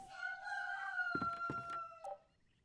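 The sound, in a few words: rooster crowing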